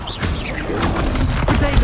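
Loud, dense booms and crashing blasts from spell explosions in the Hogwarts Legacy video game, rapid impacts piling over one another in a dungeon fight with trolls.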